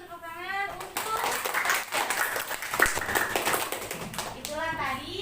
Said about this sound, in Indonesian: beri tepuk tangan untuk